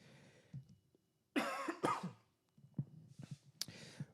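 Several harsh coughs come in bursts, close and fairly loud, with breaths and throat noises between them.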